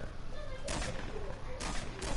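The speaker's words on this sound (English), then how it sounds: "Yep, I hear bullets." Gunshots ring out in a shooter video game, a few sharp bursts spaced across a couple of seconds over a steady background of game ambience.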